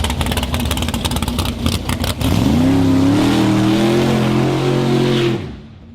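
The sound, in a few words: ProCharged Foxbody drag car doing a small burnout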